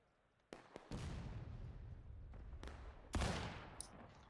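A volley of musket fire from massed infantry in a video game, a ragged crackle of overlapping shots followed by a louder rolling discharge near the end, moderately distant with lingering rumble and no voices.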